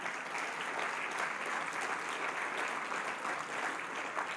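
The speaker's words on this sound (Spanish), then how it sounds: "Dale un fuerte aplauso al Señor Jesús." A church congregation applauds at a Sunday service: steady, dense clapping from many hands fills the whole stretch at an even level, with no talking over it.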